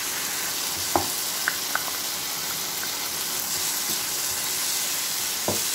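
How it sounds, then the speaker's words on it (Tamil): Capsicum and tomato sauté in a pan with a steady close sizzle, a few light clicks of a spatula stirring now and then. "இது கொஞ்ச நேரம் நல்லா வதங்கட்டும்."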